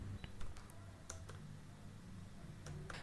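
Fingers tap a vehicle registration number into a computer keyboard, a few faint, sparse clicks spread over a few seconds against a low room hum, with no talking.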